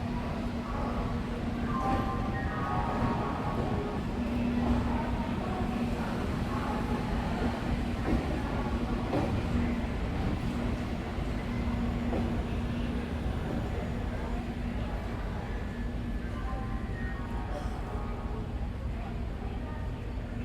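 The 12303 Howrah–New Delhi Purba Express pulls out on the adjacent track at Howrah station, producing a steady low rumble with a sustained tonal hum that continues throughout at moderate distance.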